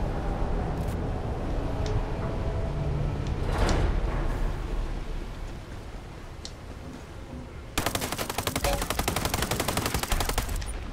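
Gunfire in the video game Ghost Recon Breakpoint pops in scattered shots before a sustained, loud automatic burst rattles rapidly near the end.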